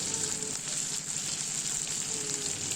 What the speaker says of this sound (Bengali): ভালোভাবে সমস্ত মশলাটা কষিয়ে নিতে হবে